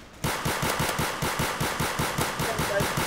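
Rapid automatic gunfire from a Roblox game starts abruptly and keeps going in an even, fast rhythm of about six shots per second, loud and alone.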